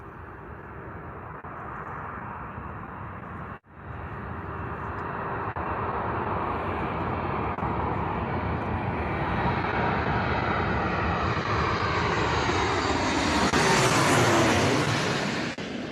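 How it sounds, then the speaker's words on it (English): A Ryanair Boeing 737 lands at Bristol Airport, and its jet roar builds steadily over several seconds into a loud, close rush that sweeps in pitch as it passes, then begins to fade. "Ryanair Boeing 737 coming in."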